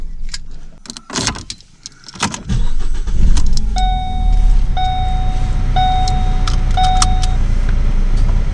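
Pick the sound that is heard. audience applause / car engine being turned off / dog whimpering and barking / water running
car engine being turned off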